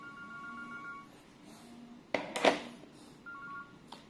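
An ECG-702 hotel guest-room wired telephone redials the last number: steady tones, a loud burst of rapid dialing clicks and beeps in the middle, then a few more short tones, close and with no voices.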